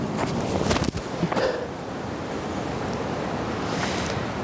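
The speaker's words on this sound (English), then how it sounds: "There's some swirly wind out there." Gusty, swirling wind on an Ohio disc golf course, a broad rushing roar buffeting the microphone, heaviest at the start and then settling into a steady outdoor hiss.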